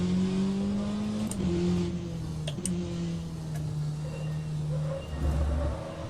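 A simulated race car in rFactor gives off a steady, droning engine note that falls gradually, with soft tyre scrub and faint ticking clicks mixed in, moderately quiet and with no voices.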